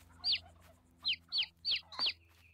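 Chickens in Farming Simulator 22 cluck in five short, sharp bursts close by, one at the start and four in quick succession, against a low steady background hum.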